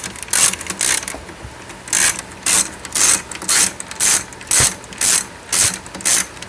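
A ratchet wrench on a GMC vehicle, removing the last center bolt, with a steady run of about a dozen sharp, evenly spaced clicking bursts that sound close and loud, and no talking.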